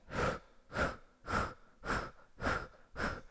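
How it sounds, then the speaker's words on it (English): A group performs forceful pressure exhale breaths in a hot yoga class, six sharp, loud breath bursts evenly spaced about every half second, with no talking. "It's just a pure pressure exhale breath."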